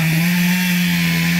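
A chainsaw cuts big trees in a small patch of timber, its engine running loud, close and steady for the whole stretch with a strong constant whine.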